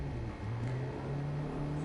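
A car engine in the racing game DriveClub VR hums steadily at moderate volume, its pitch wavering slightly as it revs, heard from a short distance.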